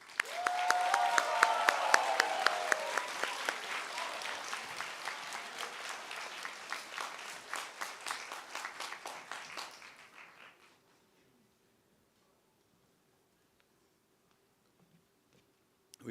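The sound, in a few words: applause for the graduation valedictorian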